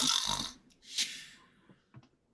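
A voice imitates snoring with a few loud, raspy snorting breaths, the first two long and strong, followed by fainter, shorter snorts trailing off.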